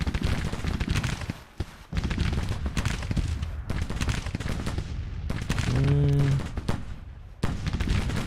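Civil War rifle fire from the Grand Tactician strategy game: a dense, continuous crackle of many volleys that barely lets up, with brief pauses before the firing resumes.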